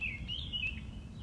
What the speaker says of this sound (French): merci les oiseaux